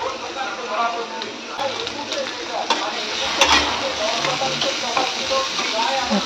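Shrimp tossed into a pan of frying onions sizzles in a steady, dense hiss, with occasional stirring clatter and spatter crackles throughout.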